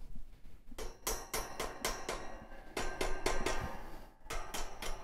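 Sharp metallic hammer taps on a metal rack being assembled, about a dozen close, irregular strikes in quick clusters with a brief pause before a final few.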